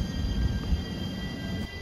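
A JR Shikoku 7200 series local electric train running on the Yosan Line near Marugame Station, a steady close rumble of wheels and motors with a faint high whine and no voices.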